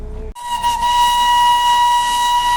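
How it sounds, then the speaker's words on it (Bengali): The Darjeeling Himalayan Railway's steam toy train at Batasia Loop sounds its whistle, a loud, steady, shrill blast with a hissing edge that starts abruptly and holds for over two seconds. "চলো, হুইসেল বেজে গেছে"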